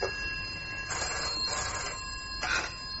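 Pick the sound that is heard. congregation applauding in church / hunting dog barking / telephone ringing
telephone ringing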